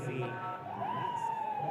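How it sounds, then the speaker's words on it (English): A siren sounds at a T20 cricket match after the winning hit, rising and wailing at a moderate distance beneath a commentator's voice and crowd noise. "The siren goes up."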